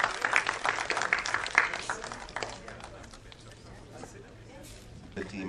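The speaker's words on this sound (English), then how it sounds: "Please give him a big round of applause." Applause for Ajay Bijli at the launch of a PVR IMAX theatre in Mumbai: a crowd claps loudly at first, then the clapping thins and fades over a few seconds.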